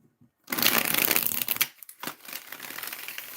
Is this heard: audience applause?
no